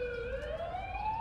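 An ambulance siren wails in the video game The Coma: Recut, a single rising tone sounding alone and fairly close for a brief moment.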